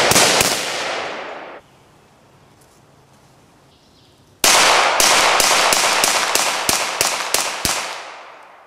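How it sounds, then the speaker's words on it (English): Rifle and pistol shots ring out at an outdoor live-fire range as a charging target is engaged. A few sharp reports come first, then a pause, then a rapid string of about a dozen loud, evenly spaced shots. "We're going to demo a live fire exercise with the advanced tactical"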